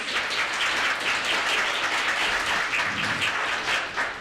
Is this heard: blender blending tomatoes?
no